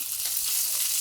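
Nineteen browned meatballs sizzle steadily in a pan, giving a close, continuous crackling fry with no talking.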